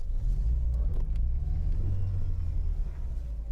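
A 1978 Volkswagen Gol engine runs steadily right after its battery is connected, giving a close, loud low rumble throughout with a slight rise and fall in revs and no talk over it.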